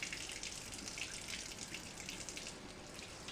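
Water runs steadily from a faucet as apples are washed in a sink, a continuous faint hiss with soft splashes throughout and no talk.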